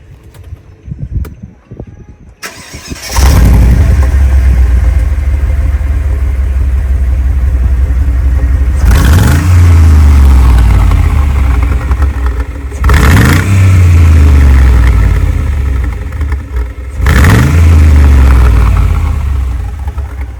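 Car engine starting after a few faint clicks, then a loud close idle broken by three sharp revving bursts that rise and fall, with a brief mention of doors and talk nearby.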